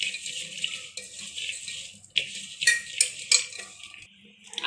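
Dry bhel puri with raw mango is tossed in a bowl with a spoon, making a crisp rustling and scraping that comes in uneven bursts up close, with no talking.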